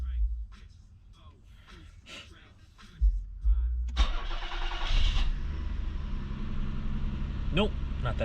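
A car engine cranks and catches at startup, then settles into a steady, fairly loud idle. Faint voices and background noise come before it.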